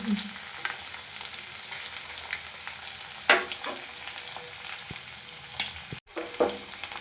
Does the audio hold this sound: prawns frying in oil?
yes